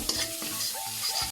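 Garlic frying in hot oil in a pan for beef caldereta, stirred with quick scraping strokes over a steady close sizzle; a short burst with no voices.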